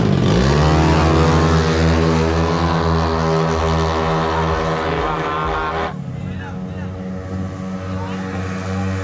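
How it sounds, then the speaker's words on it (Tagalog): A 145 kg motorcycle revs loudly up close, its engine note climbing and holding in a rising drone before dropping abruptly, with crowd babble beneath. "Ayun yung 145 kilos na motor."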